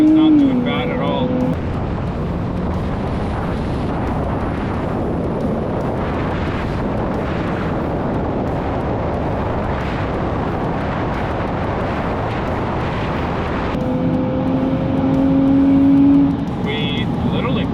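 A Kia Stinger GT and a Nissan Z drag racing, with a loud, sustained engine roar and rushing road and wind noise. An engine pitch sweep is heard near the start and end.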